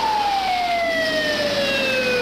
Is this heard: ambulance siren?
yes